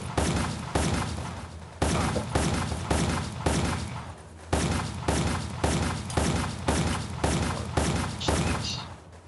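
Repeated heavy gunshots in the survival shooter Westland Survival, fired at a steady rhythm of loud booming blasts about one every second or so, each decaying into the next, close and dominant with no talking.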